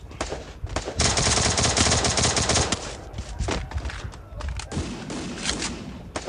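Rapid automatic gunfire in the video game Free Fire, loud dense bursts followed by scattered single shots and thuds, close and continuous over a short stretch.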